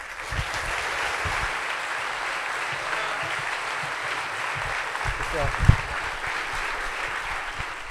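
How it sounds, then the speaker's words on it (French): Steady audience applause fills a comedy club as a comedian is introduced, a continuous dense wash of clapping at moderate volume, with a few louder claps and faint cheers standing out near the end. "Merci d'applaudir Thomas VDB."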